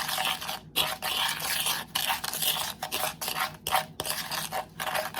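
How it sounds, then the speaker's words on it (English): Cinnamon and sugar being stirred together in a bowl for apple cinnamon sugar cookies, a steady close scraping and rubbing with brief pauses between strokes, no talking. "Then we're going to mix it together."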